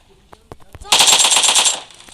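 Automatic weapon fire in the PUBG Mobile battle royale game, a loud rapid burst of shots lasting under a second after a few faint clicks, with a voice murmuring beneath.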